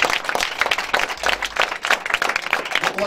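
A church congregation claps and applauds together, a dense, lively burst of rhythmic clapping that fills the room, with a voice faintly present underneath.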